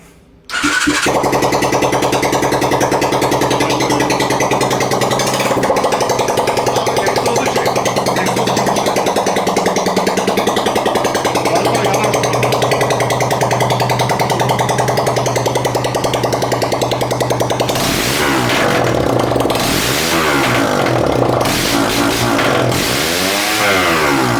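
A 200cc TK03 motorcycle engine roars loud and raw without an exhaust, a harsh continuous rattle that wobbles in pitch near the end as revs change.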